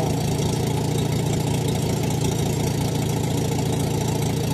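A small engine idles steadily with a low, even rumble and fast rhythmic chugging, constant throughout with no voices.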